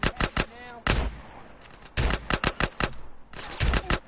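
Gunfire in GTA San Andreas, rapid loud shots in uneven bursts separated by short pauses, close and sharp, with occasional faint voices in the mix.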